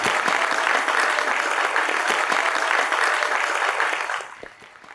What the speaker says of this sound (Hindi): उनके लिए भी तालियां बजाई दें